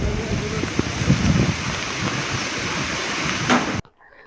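Monsoon rain pours steadily beside the Umngot River at Dawki in Meghalaya, a dense, continuous hiss of drops close by, before cutting off abruptly near the end.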